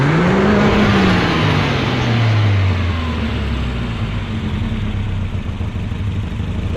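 A Volvo engine revs hard and bounces against its rev limiter, the loud pitch climbing, holding, then dropping and settling into a steady drone, close by and alone.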